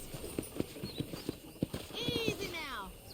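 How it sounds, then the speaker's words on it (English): A horse in the Red Dead Redemption video game clops along in a steady hoofbeat rhythm, then lets out a rising, wavering whinny near the end, all at moderate volume. "Okay, let's see if you can still ride a horse."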